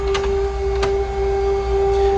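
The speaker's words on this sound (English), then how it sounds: "This is the printer." An office printer in a printing room runs steadily while producing car addendum stickers, giving a constant mechanical hum with a few brief clicks and rattles.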